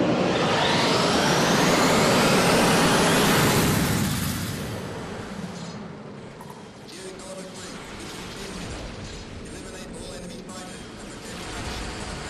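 Spaceship cyclotron drive igniting for takeoff in a Namco Starblade sequel arcade game: a loud rising whine sweeps upward over a roaring rumble for about four seconds, then drops back to a lower steady engine drone.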